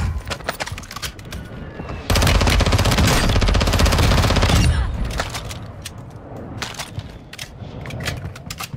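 Rapid automatic bursts from a VEL 46 submachine gun in Warzone on the Vondel map, a sustained loud volley of a few seconds amid scattered shorter shots and game noise.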